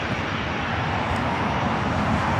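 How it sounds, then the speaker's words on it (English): An Airbus A321 airliner at LAX airport produces a continuous, loud jet engine roar, broad and steady from start to finish. "Oh, look, Rita, another A321."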